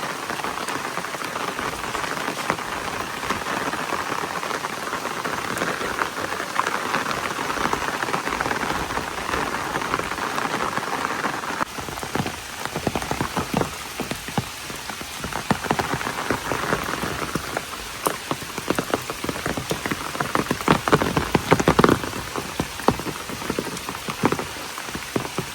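Heavy rain pours down across a village, a dense, steady hiss of drops drumming on surfaces that continues without pause, with sharper close patters of drops growing more frequent toward the end.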